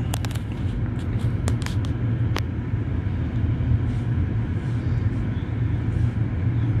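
Ford Galaxy 2.0 diesel engine idling rough with a misfire, a steady low rumble running throughout with a few brief clicks early on.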